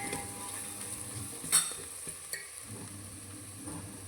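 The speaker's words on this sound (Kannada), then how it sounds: "ಇಷ್ಟನ್ನು ಹಾಕಿ ಈ ರೀತಿ ಮಿಕ್ಸ್ ಮಾಡ್ಕೊಳ್ಬೇಕಾಗುತ್ತೆ ಇದು ಆಯಿಲಲ್ಲಿ ಚೆನ್ನಾಗಿ ಫ್ರೈ ಆಗಬೇಕು" Masala fries in oil while being mixed for millet bisibele bath, a faint even sizzle under a couple of sharp spoon-on-pan knocks, close and quiet with no voices.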